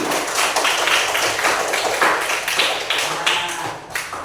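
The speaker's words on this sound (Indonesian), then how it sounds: "tepuk tangan buat Pati" A classroom of children claps hands together in a sustained, fairly loud burst of applause, many overlapping claps close by lasting the whole stretch without speech.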